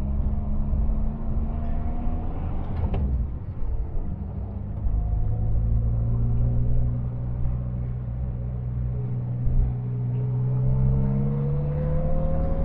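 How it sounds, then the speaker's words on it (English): Leyland Marina six-cylinder car driving from inside the cabin, a steady low engine rumble with a thin rising transmission whine running above it, continuous and fairly loud throughout. "Oh, it's got that classic transmission whine from a Marina."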